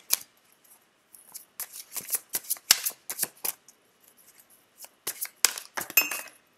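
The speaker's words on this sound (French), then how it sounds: "Je vais tirer une autre lame à côté." A tarot card is drawn from the deck, heard as a string of crisp, close papery snaps and shuffling flicks in quick irregular bursts separated by short pauses.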